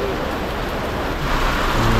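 Monsoon rain pours down in Darjeeling in a dense, steady wash of noise, close and unbroken, swelling slightly louder toward the end with a faint passing hum.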